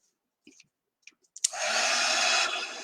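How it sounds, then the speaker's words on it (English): After a few soft clicks, a handheld heat tool switches on and blows steadily and loudly to dry chalk paste on a craft project, a close, continuous airy whoosh. "or we can use our heat tool"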